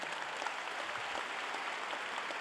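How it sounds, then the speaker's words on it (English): Audience applause fills a graduation ceremony hall at Cypress Ranch High School, a dense, steady wash of many hands clapping at once, sustained and even throughout with no voices standing out. "Let's give them a round of applause."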